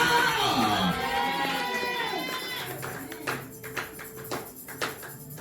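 A church congregation cheering for Jesus, a loud, high rising shout of many voices swelling and fading, followed by scattered claps and cries.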